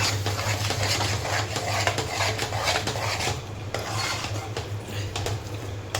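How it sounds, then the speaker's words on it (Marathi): Flour batter for Konkani-style thapat vadi is whisked in a pot, making continuous close scraping and swishing with a rhythmic metallic clatter that does not let up. "आता आपलं पीठ व्यवस्थित फेटून झालेलं आहे"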